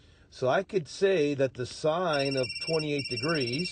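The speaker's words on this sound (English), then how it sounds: "Incoming call. Sorry for that phone call interruption there." An incoming call sets a telephone ringing quietly in repeated electronic bursts, heard faintly beneath a man who keeps explaining a math problem.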